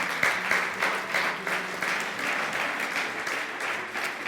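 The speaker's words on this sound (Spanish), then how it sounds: "Dele un aplauso al Señor porque Él es bueno y nos ama." A church congregation applauds during a Spanish-language sermon, a dense, steady wash of many hands clapping together at fairly close range that holds evenly throughout.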